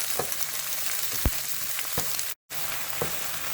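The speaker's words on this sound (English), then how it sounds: "To this I'm going to add some onions, some green chillies, and we are going to mix it for a while." Okra, onions and green chillies sizzle in a frying pan while being stirred, a loud continuous frying hiss punctuated by a few sharp scrapes and knocks of the utensil, with a brief dropout near the end.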